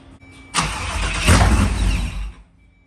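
A Pro Charged Trans Am with a 408ci engine fires up for the first time, a sudden loud catch swelling into a deep, rough rumble that holds for about two seconds before cutting off.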